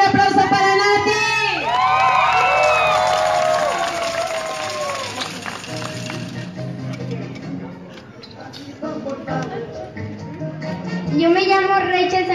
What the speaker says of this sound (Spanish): Ok, un aplauso para Nati.